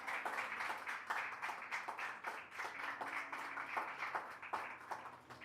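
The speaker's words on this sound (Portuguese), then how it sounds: "E você que crê nisso, aplauda o Senhor no seu lugar." A church congregation claps in praise, a lively crowd of hands beating in loose rhythmic bursts that swell and pulse steadily, close and fairly full, with no speech over it.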